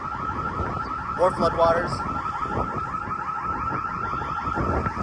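A car alarm keeps going off amid flood damage and scattered debris, its repeating warbling electronic tones cycling steadily at moderate distance while a person talks briefly over it.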